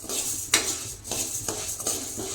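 Metal spoon scraping and stirring roasting grains in a pan heated on a gas stove, a steady gritty rustle with clinks at regular strokes, close and alone.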